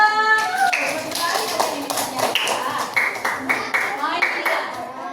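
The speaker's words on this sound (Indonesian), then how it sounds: "Tepuk tangan boleh untuk kita semua." Scattered applause patters close by in a classroom, mixed with excited children's voices and squeals.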